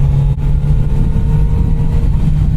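A Kawasaki Z motorcycle engine runs at a steady, near-constant note on a canyon road, Route 89A through Oak Creek Canyon. The deep hum and rumble are loud and continuous throughout, with no voices.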